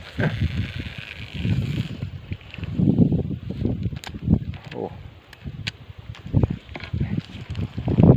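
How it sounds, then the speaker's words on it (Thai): Strong wind gusts roaring and buffeting the microphone outdoors, a rough continuous rush that rises and falls in waves over several seconds. "ลมแรง ลมแรง ลมแรง"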